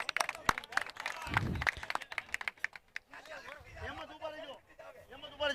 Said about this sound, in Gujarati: જોરદાર તાળી દેજો મિત્રો